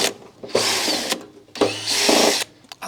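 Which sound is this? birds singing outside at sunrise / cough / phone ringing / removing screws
removing screws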